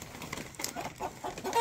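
Chickens on a farm yard clucking softly in short, irregular bursts, faint and fairly close, with light rustling between the calls.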